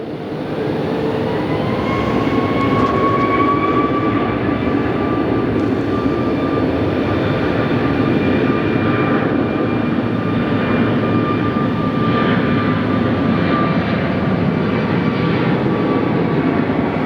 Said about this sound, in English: I got your Southwest today, guys. I got you. This is a fantastic looking jet.